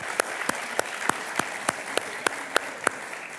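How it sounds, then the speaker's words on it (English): An audience applauds and claps to welcome Isaac Cooper onstage at a Kingdom Made Moguls event, with several sharp, loud claps standing out over the steady crowd clapping. "Come on, put your hands together for Isaac Cooper as he comes."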